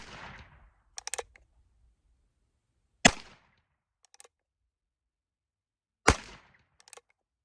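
Two loud, sharp gunshots from a 45 Colt revolver firing reloaded ammunition outdoors, spaced about three seconds apart, each followed by small metallic clicks of the action, with a fading shot-like tail at the start.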